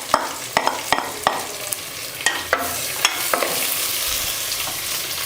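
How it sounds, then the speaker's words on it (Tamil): Ginger and garlic fry in hot oil in a home kitchen pan, with a steady soft sizzle and a series of sharp scraping stirs of the spoon repeating every half second or so, close and moderately loud. "நல்லா வந்து அந்த இஞ்சி பூண்டு இது ரெண்டுமே வந்து அந்த எண்ணெயில் பொரியட்டும்"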